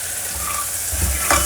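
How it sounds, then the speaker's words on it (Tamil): Onions sauté in oil in a pan for a South Indian mor kuzhambu, giving a close, steady sizzle with stirring scrapes underneath, brief and continuous with no one speaking. "ஒரு 2 நிமிஷம் வெங்காயம் நல்லா வதங்கட்டும்."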